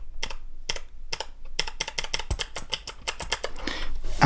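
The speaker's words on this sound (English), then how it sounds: "the Razer Blackwidow Elite mechanical keyboard. And if I'm just gonna take a little closer, this is what it sounds like." Keys clacking on a Razer BlackWidow Elite mechanical gaming keyboard, close up, in quick irregular bursts of sharp clicks with short pauses between them, no one talking.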